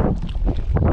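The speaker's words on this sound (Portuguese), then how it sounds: "o vento aí tá médio para um pouco forte" Medium to fairly strong wind blowing at Ponta Grossa beach in Icapuí, Ceará, roaring steadily and buffeting the microphone with loud low gusts throughout.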